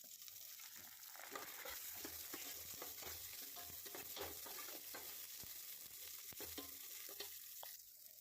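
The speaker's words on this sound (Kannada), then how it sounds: "2 ಸ್ಪೂನ್ ಎಣ್ಣೆ ಹಾಕಿ ಸಾಸಿವೆ, ಜೀರಿಗೆ ಮತ್ತು ಜಜ್ಕೊಂಡಿರೋಂಥ ಬೆಳ್ಳುಳ್ಳಿ, ಈರುಳ್ಳಿನೂ ಹಾಕಿ ಸ್ವಲ್ಪ ಬಾಡಿಸ್ಕೊತಿದ್ದೀನಿ" Garlic, onion, mustard seeds and cumin sauté in oil with a steady, faint sizzling hiss and scattered small pops and stirring taps, close but quiet and without talk.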